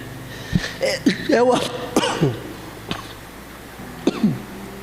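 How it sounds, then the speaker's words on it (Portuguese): Several harsh coughs in a row, with throat clearing between them, close to the listener. "lá vem de novo a tosse do domingo passado"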